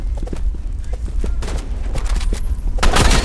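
Rapid bursts of gunfire in a shooting video game, with volleys of shots crowding together into a loud fusillade that swells toward the end, and a player's voice heard faintly in places.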